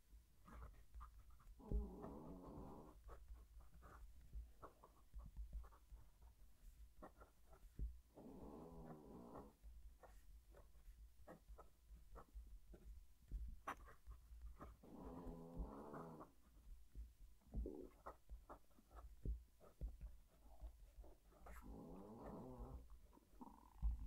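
Soft, rhythmic snoring from a dog lying on a seat, with slow breaths repeating every few seconds, faint and close, alongside light scratching of a fountain pen writing on paper.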